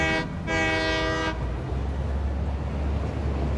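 A train horn in the game Satisfactory sounds two sustained harmonic blasts, a short one then a longer one, over a steady low rumble of the train passing in a factory-building setting.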